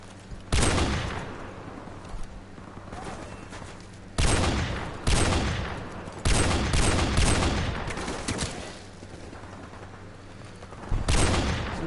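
Sniper rifle fire in a first-person shooter game, with several loud close shots, each followed by a long booming decay that fills the gaps between them, repeated in irregular bursts with no talking over it.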